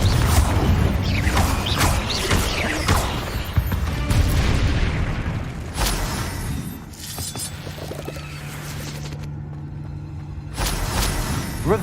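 Confringo blast spells in the video game Hogwarts Legacy, a series of loud explosive bursts with shattering crackles and booming impacts that come in quick succession, then briefly quieter before another hit.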